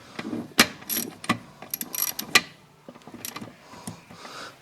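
KTM 300 two-stroke engine gearbox on the bench during a bottom-end rebuild, shifted by hand and reluctant to select gears: sharp metallic clicks, clunks and ratcheting clatters in an irregular series, close by and quiet in between.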